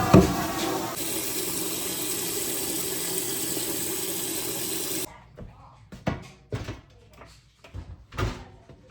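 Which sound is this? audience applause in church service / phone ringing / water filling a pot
water filling a pot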